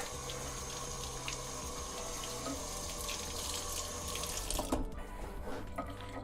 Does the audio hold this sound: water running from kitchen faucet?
yes